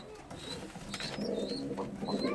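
Pigeons coo inside a backyard coop, low rolling calls repeating through the clip, steady and fairly close, with faint higher chirps from other birds behind them.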